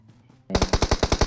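Loud automatic gunfire in PUBG Mobile erupts suddenly after a quiet moment, a rapid, evenly spaced burst of close, punchy shots.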